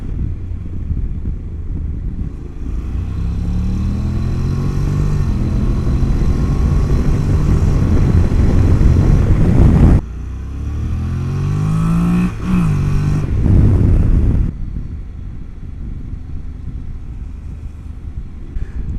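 Exhaust of a 2019 Honda NC750X DCT motorcycle revving hard as the throttle is twisted, a loud close rumble rising in pitch twice, dropping back between pulls and settling to a steadier drone.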